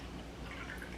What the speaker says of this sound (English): And we're gonna pour in our 2 cups of apple